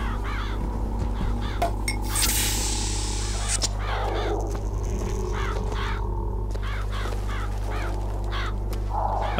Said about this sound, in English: Hence the crows, I guess.